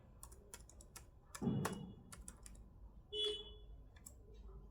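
Quick bursts of keystrokes tap on a computer keyboard as a name goes into blood bank software. The clicks are close and light, with a couple of brief tonal beeps.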